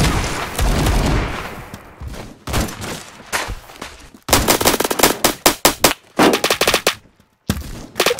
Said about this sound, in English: A rapid fire gun will work.